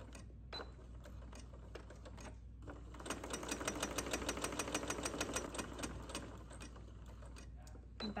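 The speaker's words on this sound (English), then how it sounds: "Now just take it to your machine and sew all around that edge." Sewing machine stitching along the edge of a fabric strap: fast, rhythmic mechanical needle clatter over a low motor hum, with a brief stop before a steadier, busier run of stitching, all close up.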